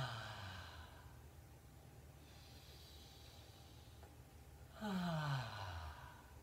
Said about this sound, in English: Now let's wake up our lungs with some nice, big, deep breaths.